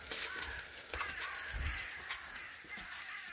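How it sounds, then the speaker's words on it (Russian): Several crows caw in bursts outdoors at a lakeside dacha, loud and close, with a few overlapping calls across a steady outdoor hiss. "Что-то так ворон много, смотри."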